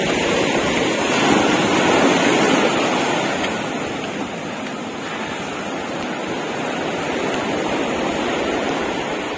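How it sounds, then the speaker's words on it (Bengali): Big ocean waves crash and roll onto the beach at Mirissa, Sri Lanka, a loud, continuous roar of surf that swells and eases slightly, with some wind buffeting and no talking. "এত বড় বড় ঢেউ!"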